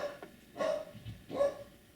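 A dog barks twice at a distance, two short, faint woofs about a second apart over quiet room ambience.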